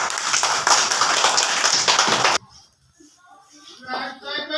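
A burst of group clapping by children in a classroom, dense and steady for a couple of seconds, then it stops abruptly, leaving quiet room noise and faint voices.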